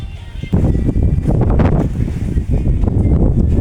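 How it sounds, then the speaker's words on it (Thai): Strong storm wind gusting through a town in Lampang, Thailand, a loud, rough roar buffeting the microphone that surges after a quiet start and stays heavy throughout, with no voices. "ความแรงของลมนะพี่น้อง"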